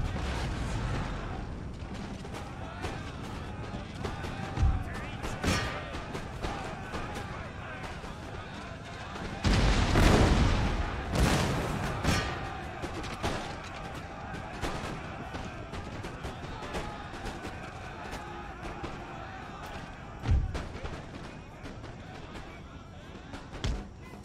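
Grenadiers firing musket volleys in Empire: Total War: a dense crackle of distant shots and booming reports, swelling into a heavy rolling fusillade midway, with scattered later bursts and no clear talking.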